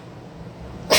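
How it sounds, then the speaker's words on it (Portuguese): A single sharp sneeze bursts out at the very end, close and loud, after a second of quiet room tone. "Aí vou espirrar."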